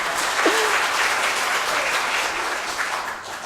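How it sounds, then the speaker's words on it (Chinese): During a Taiwanese-language church worship sermon, the congregation breaks into applause. The clapping is fairly loud and continuous and fades slightly toward the end. "有人在拍手"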